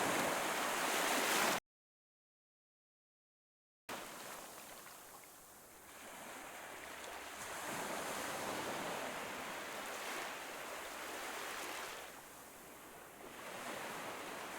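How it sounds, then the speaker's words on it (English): Ocean waves in a video game roll in as a steady broadband wash with slow swells, broken early on by a brief stretch of total silence before the surf resumes. "Endless blue waves extend to the horizon."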